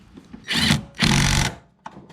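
A Snap-on mini impact gun works on an MK4 Jetta 1.8T, firing two close, loud bursts of buzzing whirr, one short and one longer, with a small click afterward.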